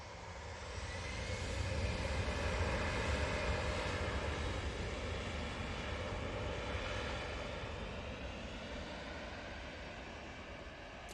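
An easyJet airliner starts its takeoff roll bound for Belfast, a steady broadband jet roar swelling over the first two seconds and holding loud and constant before slowly easing as it pulls away.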